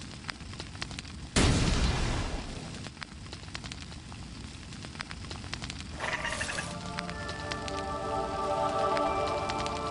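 Fire seeds thrown into a fire to hatch a dragon egg in a Harry Potter video game make a sudden loud whoosh-burst, followed by steady crackling. A second flare-up comes later, then rising chimes.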